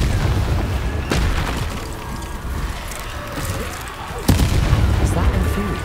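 A Confringo spell blast from Hogwarts Legacy combat, with two sharp booming impacts, one early and a stronger one later, over rumbling game noise and music.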